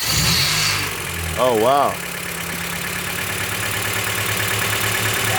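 A car engine cranks on a failing starter and catches, then settles into a steady, close idle that runs on alone, with a brief exclamation from a voice partway through.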